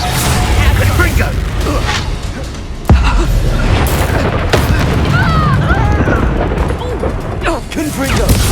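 Spell explosions from Confringo and Reducto in Hogwarts Legacy boom and crash repeatedly, loud sharp blasts with rumbling tails layered over a voice shouting spell names throughout.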